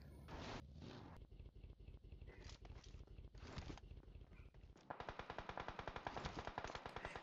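An MG Lite 3 machine gun fires in a mobile shooter game, with scattered single shots and short bursts giving way to a loud, rapid sustained burst near the end, no talking.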